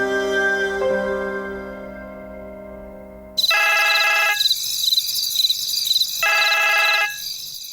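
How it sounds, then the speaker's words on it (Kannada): After soft tonal music, a phone rings during an outgoing call in a Kannada TV serial scene: two loud, bright electronic ringing bursts separated by a short pause. "ನಾನೇ ಒಂದು ಫೋನ್ ಮಾಡ್ತೀನಿ."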